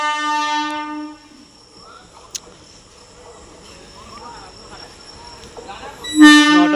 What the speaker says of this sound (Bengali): তো বন্ধুরা দেখতে পাচ্ছ আমাদের ট্রেন ঢুকছে অবশেষে।